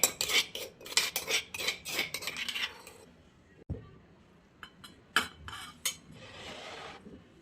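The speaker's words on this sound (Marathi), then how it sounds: "मिरची कुटलेली आहे ना मी त्याच्यातच ओवा आणि जिरं कुटणार आहे." Crushed chilli, ajwain and cumin seeds are pounded together. A rapid burst of sharp metallic knocks is followed by a quiet pause, then a few more scattered strikes and a scraping rustle, close and clear.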